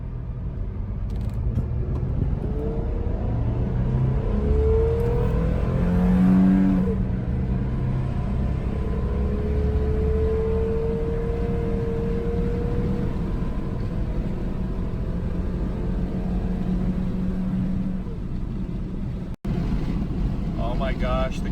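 A 1990s-era Acura SLX SUV cruising on the road, its steady engine drone and road rumble running continuously with wind noise against the cabin, broken by a brief thump near the end.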